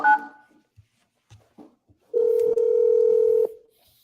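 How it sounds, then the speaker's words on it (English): A telephone call being placed: a few faint keypad clicks and a short tone, then a loud steady ringback tone held for over a second before cutting off. "He sent me straight to voicemail, so I'm calling him back."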